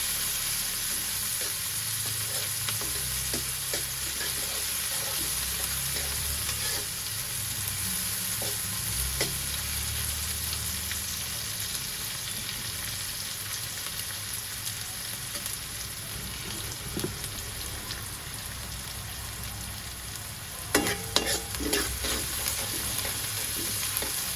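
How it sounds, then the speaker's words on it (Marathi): Onion sautéing in a pan for a green vegetable pulao gives a steady low sizzle, with occasional spatula scrapes and a short flurry of louder stirring clatter near the end. "कांदा आपल्याला लालसर होईपर्यंत परतायचा आहे."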